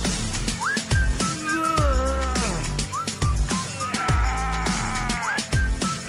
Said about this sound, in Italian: Fischietto.